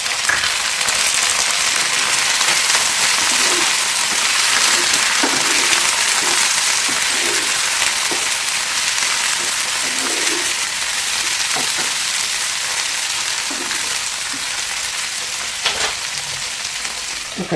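Broad beans fry in a pan with tomato for a curry, a steady dense sizzle and crackle that holds through the whole stretch with occasional sharper pops and light stirring scrapes, close and fairly loud, with no talking.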